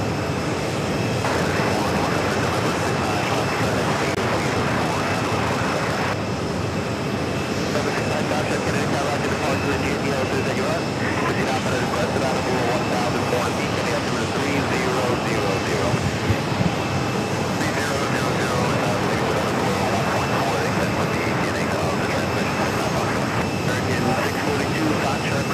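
A JetBlue airliner passes at JFK airport with a steady, loud broadband engine roar that holds throughout without fading, and people talk over it.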